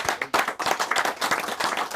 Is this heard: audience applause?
yes